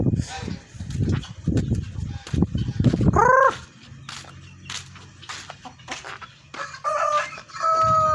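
Chickens cluck and squawk close by while a rooster lets out a loud crow, with more clucking and crowing from several birds around it.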